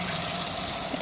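Second coconut milk pours into a pan of Angamaly-style mango curry, a steady close liquid gush and splash that runs unbroken for about a second with no talking.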